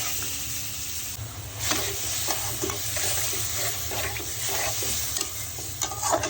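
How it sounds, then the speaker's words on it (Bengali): Prawns frying with garlic and onion in a pan, a continuous close sizzle with repeated spatula stirring and scraping sounds over a low hum, no speech. "রসুন পেঁয়াজের সাথে চিংড়ি মাছ একটু ভালো করে ভেজে নিব।"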